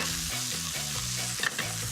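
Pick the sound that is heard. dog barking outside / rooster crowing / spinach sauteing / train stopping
spinach sauteing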